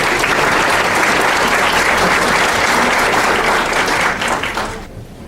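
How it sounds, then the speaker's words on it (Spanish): Loud, dense applause from a conference audience at an education forum in Peru, sustained evenly before fading out quickly at the end. "Un aplauso para ellos."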